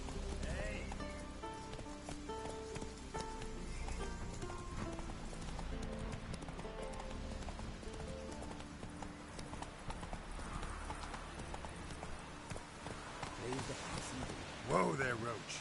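Roach the horse clip-clops along in The Witcher 3, a steady rhythm of hooves under game music, ambient sound and occasional character voices.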